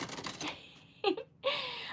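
Keys on a typewriter strike in a few separate, sharp clacks, spaced irregularly and fairly close, between quieter stretches with little else audible.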